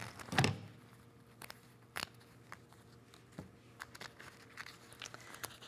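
Applique pieces being popped out of machine-embroidered fabric: a loud crinkling tear near the start, then scattered short snaps and rustles, close and fairly quiet, with no talking.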